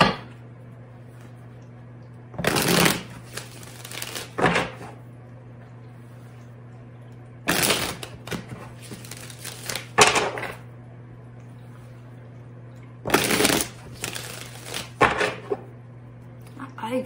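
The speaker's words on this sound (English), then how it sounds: "I forget how many times I shuffle." Tarot cards being shuffled by hand, several bursts of brisk riffling and shuffling spaced a few seconds apart over a constant low hum.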